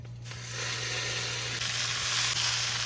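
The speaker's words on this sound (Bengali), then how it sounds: "চিপড়িয়ে চিপড়িয়ে দিয়ে দেবো তেলের মধ্যে" Squeezed, salted leafy greens drop into hot oil and set off a loud, steady sizzle that swells after the first half-second and keeps hissing evenly to the end, with no voices.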